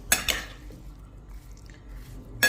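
Kitchen utensils clink and scrape against a bowl while watermelon salad is tossed with its sauce. There are two quick bright clinks at the start, a quieter stretch of soft mixing, and one more clink at the end.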